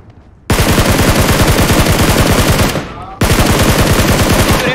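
Rapid automatic gunfire from the PUBG Mobile video game, a loud sustained burst that cuts off briefly near the end and then resumes at full intensity, with no talking.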